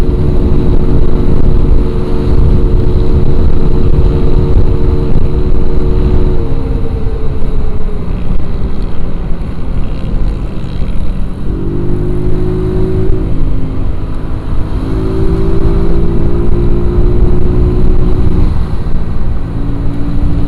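Yamaha Mio scooter engine holding a loud, steady high-revving drone on a top speed run, with pitch dipping and climbing as it shifts through the rollers, continuous and close with constant wind rush and no voices.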